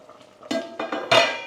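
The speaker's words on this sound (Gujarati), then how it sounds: "હવે આપણે કઢીનો ગેસ એકદમ ધીમો કરી અને ચમચી મારી ચેક કરી લઈએ." A metal spoon knocks and scrapes against a pot of thick Gujarati kadhi on a low flame, three or four distinct clinks and scrapes in quick succession, close and fairly loud.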